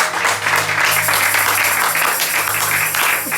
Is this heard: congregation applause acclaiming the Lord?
yes